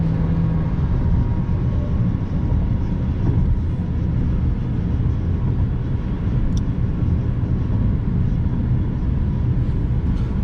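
Chrysler 200 Limited sedan on the move, a loud, steady broadband road and engine roar with tire rumble holding constant throughout, with no voices.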